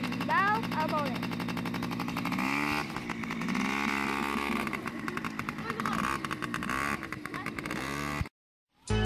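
A motorbike engine hums and drones steadily while riding, with shifting pitch as it speeds up and slows, a voice talking over it, ending in a sudden cutoff.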